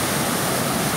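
Floodwater rushes down a normally dry riverbed near Etosha National Park after a cloudburst, a loud, dense, continuous roar of churning water heard close by with no voices.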